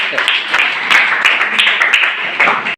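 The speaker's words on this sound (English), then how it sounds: "Please give a huge round of applause." School audience applauding after a Grade 9 news review presentation, a steady wash of many hands clapping at moderate distance, with some voices mixed in.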